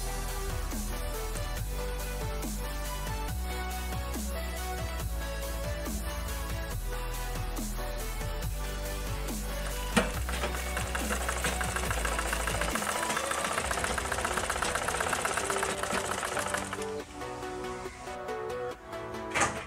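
A sewing machine stitches a double fold on a baby frock sewn from fabric scraps, its needle running in a steady rapid clatter that rises in speed, then stops near the end.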